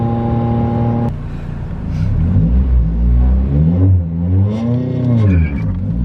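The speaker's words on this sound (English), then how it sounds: "It's not dying in 6th gear going up a hill now. I'm giving it very light throttle and it's climbing." A project car's engine climbs a hill in sixth gear under light throttle, a loud, close, rising and falling harmonic drone that shifts pitch smoothly as the revs change.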